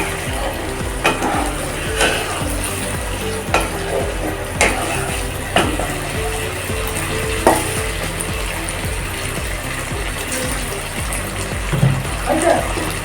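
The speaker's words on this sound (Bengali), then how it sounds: "আলুটা দেওয়ার পর আমি এখানে আরও 2 মিনিট মতো ভালো করে কষিয়ে নেব।" Fried potatoes and snakehead fish curry are stirred and sautéed in a pan with a steady sizzle, with repeated scraping stirs and occasional utensil knocks throughout.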